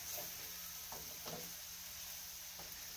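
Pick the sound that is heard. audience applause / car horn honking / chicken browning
chicken browning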